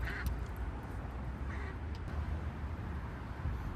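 Ducks quack faintly and briefly from a distance beside a carp fishing swim, a few scattered calls over a constant outdoor background hiss with no talking.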